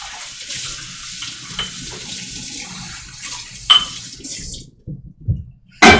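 A tap runs into a sink of hot soapy water while lids that had been stored in a garage are washed, steady rushing flow with occasional clinks and knocks near the end as the water stops.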